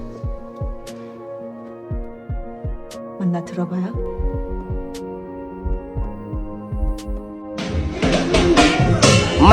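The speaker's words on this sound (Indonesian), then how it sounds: "dia mendengar detak jantung Dong-sik yang semakin cepat" A fast heartbeat sound effect in a superhero action film gives repeated low thumping beats, mixed with sustained music tones and brief dialogue in Korean, with a denser burst of noise near the end.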